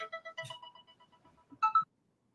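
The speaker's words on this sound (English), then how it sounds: "No, that was a phone call." A phone plays an electronic ringtone for an incoming call: a short melodic sequence of beeping tones, then a brief pause and two louder final notes, heard clearly with no talking over it.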